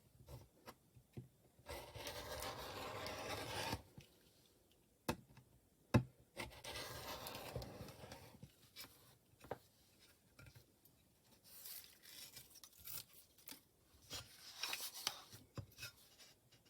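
A blunt rotary cutter drags across a printed paper sewing pattern, making several close, rasping scraping strokes in bursts separated by brief pauses and small taps.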